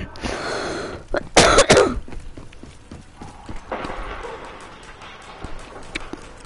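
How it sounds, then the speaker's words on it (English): A person in a Zombies Chronicles gaming session coughs into a microphone, one harsh loud burst near the start followed by softer clicks and game noise. "Sorry guys, I'm coughing the mic."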